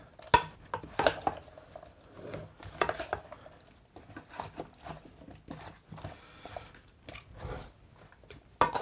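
A spoon stirs butternut squash and chickpea tagine in a pan, giving irregular faint scrapes and clinks of metal against the cookware, with soft pauses between strokes.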